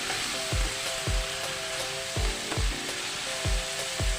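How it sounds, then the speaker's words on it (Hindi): White lobia (black-eyed bean) keema frying in a pan, a steady close sizzle punctuated by regular low thumps roughly every half second, like a spatula striking the pan while stirring. "ये देखें मैं अब इसमें अच्छी तरीके से इसको थोड़ी देर फ्राई कर लूँगी 10 सेकंड के लिए"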